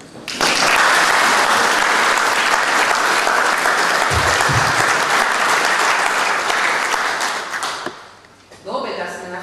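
Loud, dense audience applause at an awards ceremony, sustained for about eight seconds before fading as a voice begins.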